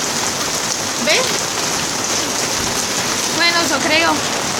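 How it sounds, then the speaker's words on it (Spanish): Heavy rain mixed with hail pours down steadily outdoors, a dense constant hiss of drops and ice pellets striking surfaces, with brief voice-like sounds rising above it now and then. "La lluvia se escucha más fuerte que nunca."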